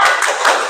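A short burst of hand clapping from a school class, quick overlapping claps lasting under a second.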